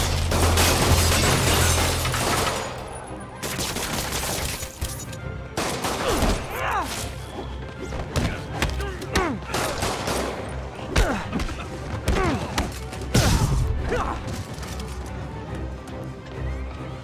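Rapid bursts of gunfire from thugs in Marvel's Spider-Man, sustained volleys with crashes and impacts, loud and dense throughout with game effects layered in.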